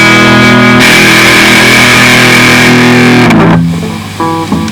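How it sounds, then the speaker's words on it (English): An electric guitar on a Nu Wave Rastacaster build played through a Boss Turbo Distortion DS2 pedal rings out loud and sustained, then cuts off and is followed by a few quieter distorted notes. "I've got Boss Turbo Distortion DS2 down here."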